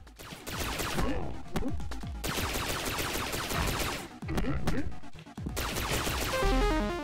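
Enemies firing in the video game Mighty Aphid 2, dense rapid bursts of gunfire layered over loud game music and effects, continuous with a few short pauses.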